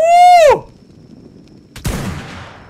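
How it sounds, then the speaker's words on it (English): Sniper rifle, an ascent sniper rifle, fired in ARK: Survival Evolved in an ice cave; a single loud sharp crack follows a brief tonal whine, then a decaying rumble trails off. "Damn straight, I'm shooting you with a sniper rifle"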